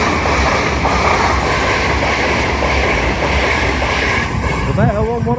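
A double set of LNER Azuma trains passes through a station at speed, a loud sustained roar of wheels and rushing air that fills the scene, with a voice briefly audible near the end.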